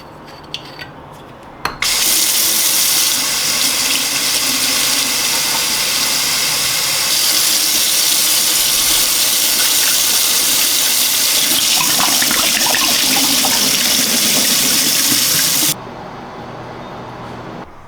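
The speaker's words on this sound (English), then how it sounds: "I'm going to fill it with some fresh water and put it out tonight for some moon water" Fresh tap water runs steadily and loudly into a bottle for about fourteen seconds, a dense continuous rush that starts and stops abruptly, with no talking.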